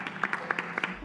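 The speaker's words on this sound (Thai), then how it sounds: "ขอเสียงปรบมือให้กับ" Audience applause for a contestant on a Thai competition show, short scattered claps at moderate level, fading out toward the end.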